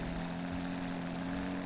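A broken-down airplane engine drones steadily in the video game Unturned, a continuous loud hum with no breaks.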